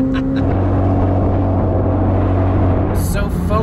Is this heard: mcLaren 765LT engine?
yes